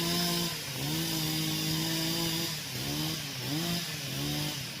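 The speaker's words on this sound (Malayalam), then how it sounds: "ഇനി അവരടിയിൽ കട്ട് ചെയ്ത് കഴിഞ്ഞിട്ട് മരം വലിച്ചിടുക ചെയ്യാം" A chainsaw cuts into a tree during village tree felling, its engine holding steady notes that dip and rise several times as it bites, loud and close with no talk.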